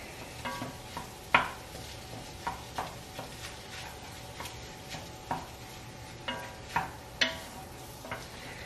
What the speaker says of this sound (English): we will get this to browning. It is pork.